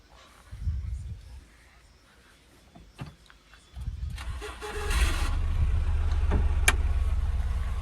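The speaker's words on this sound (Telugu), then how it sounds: "బండి అయితే సింగిల్ సెల్ఫ్లో స్టార్ట్ అవుతుంది." A 2015 Honda Mobilio diesel with manual gears cranks briefly and fires on the first try, then settles into a steady low idle rumble; a faint voice is heard briefly near the start.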